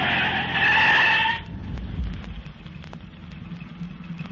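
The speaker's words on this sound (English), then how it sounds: "Hang on while I skid this car straight across the road." A car skids straight across a road with a loud, high tire squeal lasting over a second, then cuts off abruptly, leaving a low engine rumble and faint knocks.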